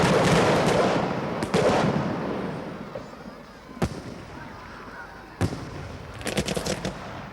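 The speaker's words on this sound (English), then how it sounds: "We set the fireworks off in the darkness" A 1977 Kimbolton fireworks display goes off in darkness: a dense crackling volley that fades away, followed by sharp isolated bangs and a closing cluster of rapid pops, moderately near.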